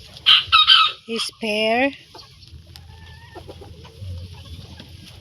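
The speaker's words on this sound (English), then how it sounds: "So here's our bantam chicken." Bantam chickens cluck loudly and close in a few sharp bursts, one call rising into a crow-like cry, then quieter scattered clucks continue under a brief spoken voice.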